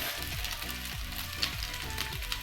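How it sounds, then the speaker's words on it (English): Diced smokies sausages fry in a pan with a constant low crackling sizzle, joined by faint repeated soft stirring or shifting sounds. "I'm just going to throw in the smokies that I've diced and fry them for a bit"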